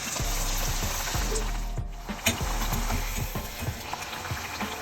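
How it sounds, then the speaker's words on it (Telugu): Bottle gourd appalu fry in hot oil with a loud, continuous crackling sizzle close by, broken by soft irregular clicks and taps from the pan. "ఇప్పుడు వేడెక్కిన నూనెలో అప్పాలి ఫ్రై చేసుకోవాలి."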